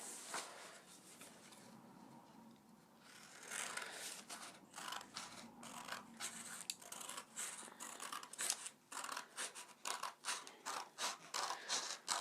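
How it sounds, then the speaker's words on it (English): Scissors snipping strips from a green sheet of paper: a quiet, close series of crisp cutting crunches that quicken into a steady rhythmic run of snips. "I'm going to cut some strips from this nice green piece of paper."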